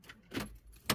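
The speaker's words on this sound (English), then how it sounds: "Key comes out, it goes off." A car key is pulled from the ignition of a VW T4 van, giving a short metallic jangle of keys with a couple of quick clicks in about a second, close up and fairly quiet.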